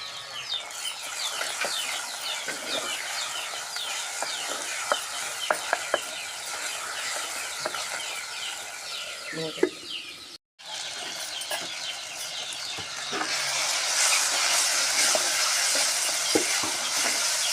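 Broad bean curry sizzles and fries in a pan as tomatoes go in, with steady crackling and frequent stirring scrapes throughout, a brief pause, then a louder, denser sizzle toward the end.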